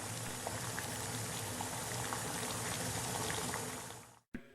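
Rainwater runs into an underground storage tank, a steady, dense rushing and bubbling of water that holds level for several seconds and then cuts off abruptly.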